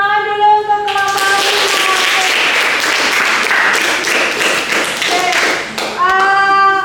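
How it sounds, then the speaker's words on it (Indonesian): A classroom group gives a short burst of clapping for a student group after its presentation, lively and close for several seconds, with voices talking before and after. "tepuk tangan dulu untuk kelompok"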